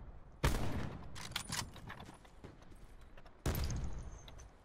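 Gunshots ring out in the Blackout battle-royale mode of a shooter video game: two sharp, loud reports bracket a burst of rapid distant firing, with no voices.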